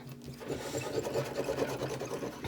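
Paper being rubbed and burnished by hand to transfer an image, a steady close scraping texture with rhythmic strokes throughout, no voices.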